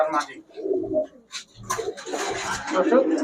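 Pakistani Babra pigeons coo in short, low, throaty bursts, close by. Someone talks over and between the calls.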